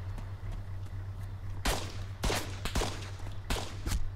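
Gunfire in the video game Arma 3: several sharp shots in quick irregular bursts over a constant low hum, fairly close.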